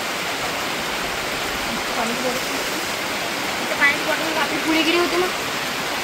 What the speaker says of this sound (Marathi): पाऊस चालू आहे बढिया